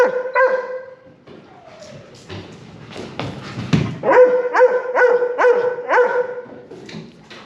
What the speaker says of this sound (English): He's barking because he just wants to leave.